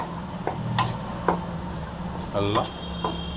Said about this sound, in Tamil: நெல்லிக்காய் போட்டு சிம்மில் தான் வச்சுருக்கோம். இப்போ நம்ம நல்லா அப்படியே கலக்கலாம்.